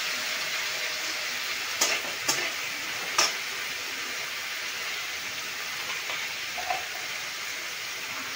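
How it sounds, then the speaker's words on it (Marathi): Steady, soft sizzling of potatoes frying in hot oil for sabudana khichdi, with a few faint clinks partway through. "तेल टाकून आपण बटाट्याला मऊ करून घेणार आहे तेलात फक्त"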